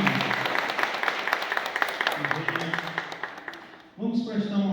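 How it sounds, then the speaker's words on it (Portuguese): A warm round of applause from an audience at a posthumous tribute ceremony: dense, steady clapping that fills the room, thinning slightly before a voice speaks over it at the end. "quero pedir uma calorosa salva de palmas"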